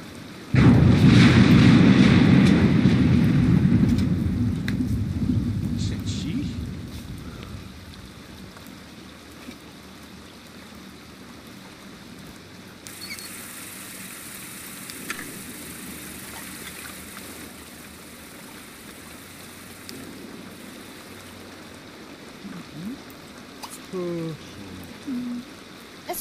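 A thunderstorm in The Sims 2 opens with a loud, rolling rumble of thunder that fades into steady rain, with faint game sounds and occasional voices underneath.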